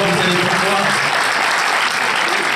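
Loud, dense applause from a film premiere audience fills the whole stretch, steady and close with no pauses.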